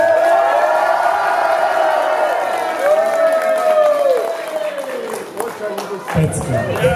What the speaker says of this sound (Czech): Pojďme pořádně přivítat, udělat velký potlesk